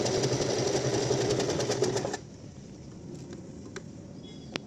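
Sewing machine running a zigzag stitch to join two layers of soft fleece for a slipper boot, a steady close mechanical whir with rapid needle ticks for about two seconds, then stopping, leaving faint clicks and handling noise.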